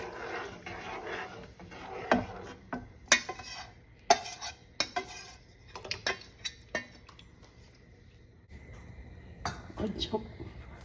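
A spoon stirs ragi porridge in a pot on a low flame, making irregular scrapes and metallic clinks against the pot over a soft, quiet background.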